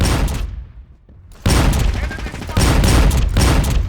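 Loud, rapid bursts of gunfire from an automatic shotgun, fired in quick successive volleys with a short pause between the first and second bursts.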